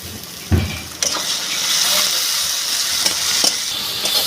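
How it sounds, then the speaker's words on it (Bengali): Ginger garlic paste frying in a pan for chicken curry, a loud close hiss of sizzling oil rising after a clatter as it goes in, with occasional spoon scrapes and stirring knocks. "এবার দিয়ে দেবো আদা রসুনের পেস্টটা।"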